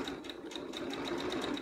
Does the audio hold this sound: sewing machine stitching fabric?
yes